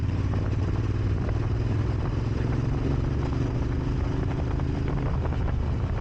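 A Moto Morini X-Cape 1200 motorcycle engine runs at 2,000 rpm in sport mapping at a steady, low rumble with a fast pulsing beat, continuous and close throughout.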